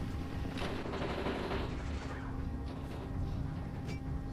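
Squads firing at enemy mechanics in the war game Ring of Red, a dense continuous crackle of gunfire with repeated bursts over a steady battlefield rumble, moderately loud throughout.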